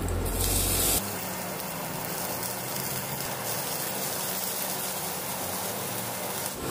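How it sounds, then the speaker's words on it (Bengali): Chopped medium onions hit hot white oil with whole cumin in a frying pan, setting off a loud, steady sizzle and hiss that continues without pause, close by and alone. "এরপর দিয়ে দেব এতে দুটো মিডিয়াম সাইজের পেঁয়াজ কুচি।"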